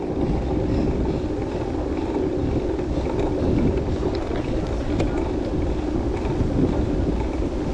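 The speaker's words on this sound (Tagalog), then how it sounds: "Lakas ang hangin." Strong wind at a windmill farm buffets the microphone in a constant low roar, with rushing gusts and no clear voices.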